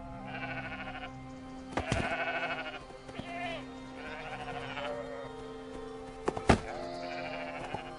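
Sheep in Romania bleat several times in a row, fairly close and clear, with a few sharp knocks and rustles between the calls and no one speaking.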